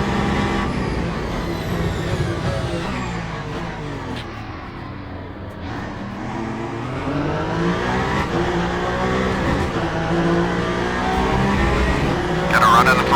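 A Ferrari race car in a racing simulator game roars loudly and continuously, the engine note rising and falling through gear changes, with a brief tire squeal or skid near the end.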